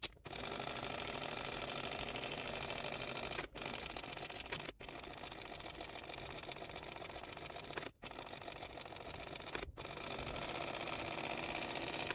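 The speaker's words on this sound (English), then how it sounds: "we're going to top stitch all the way around here with 1/8 of an inch seam allowance" A sewing machine topstitches around a small barrel bag with an eighth-inch seam allowance, a steady close whir of rapid needle strokes that halts briefly four times before running on.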